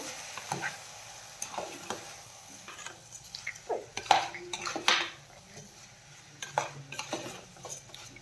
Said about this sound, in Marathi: तांदूळ आपण यामध्ये अर्धा मिनिटभर परतून घेऊया